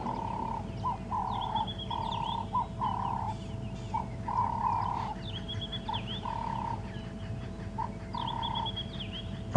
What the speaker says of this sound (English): I'm sure you can hear the Cape turtle dove calling a lot clearer now